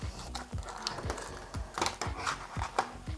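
Plastic packaging of a cheap Bluetooth 5.0 adapter is pulled open in a string of close, sharp crinkles and clicks, with no talking.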